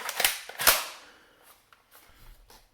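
An airsoft gun from a Taiwan order fires with a sharp, close pop, followed by another crisp snap a moment later, then a few faint mechanical clicks and handling sounds.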